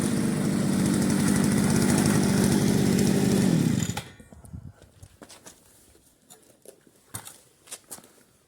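A FORESTA petrol brush cutter engine runs loud and steady for about four seconds after starting, then cuts off, leaving only faint scattered clicks and handling noises.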